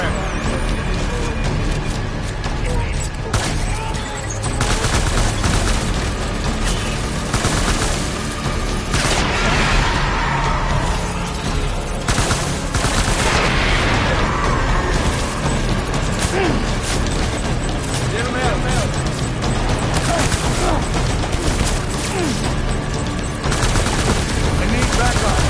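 Sustained automatic gunfire from the video game Death Stranding, loud and dense bursts with mechanical clatter running throughout, with a stormy background bed.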